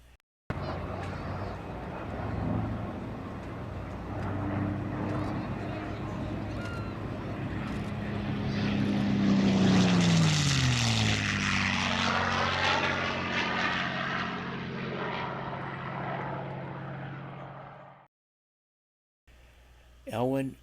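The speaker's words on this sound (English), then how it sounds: "A V16 Packard Merlin engine." A WWII fighter airplane powered by a Packard Merlin engine flies past, its propeller drone building to a loud, rising roar overhead and then falling away with a Doppler drop before the sound cuts out.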